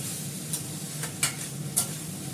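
Cauliflower and potato curry sizzles softly in a pan as a spoon stirs it, with a few light scraping clicks against the pan, close but fairly quiet.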